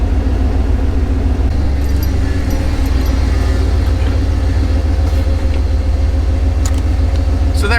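A car engine runs steadily throughout with a loud, continuous low rumble and drone, held at high revs with no clear rise or fall, and no voices on top.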